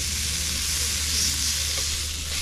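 Meat sizzles and fries on a grill or pan during an October island trip, a steady crackling hiss that runs the whole time with a low hum beneath and no talking.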